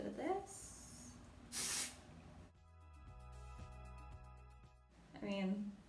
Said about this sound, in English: So I'm going to spray a little bit of this.